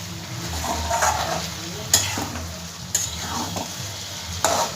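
Slit potatoes are stir-fried with spices in a pan, producing a low steady sizzle with a few louder scraping stirs and utensil clinks spaced about a second apart, close by.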